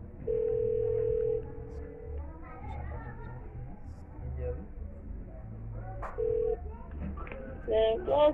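A phone call being placed, with steady tone beeps and ringback tones heard close, several long and short tones spaced apart over a murmuring background, people talking in the room.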